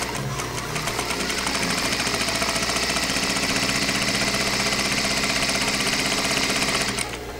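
A sewing machine runs continuously and close by while gathering fabric for a dress, with a rapid, even mechanical stitching rhythm that stops abruptly just before the end.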